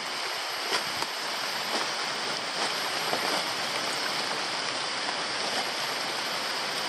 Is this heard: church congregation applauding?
no